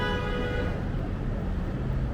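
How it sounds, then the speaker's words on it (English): A car horn sounds in Philadelphia street traffic, a harmonic toot in the opening moment fading into steady road rumble and traffic noise. "It's the second honking that's not necessary."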